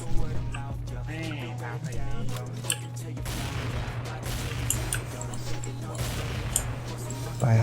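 Heavy shotgun blasts fired at mummies in the XSHOT shooter game, loud repeated booms over a steady low hum, with someone talking excitedly between shots.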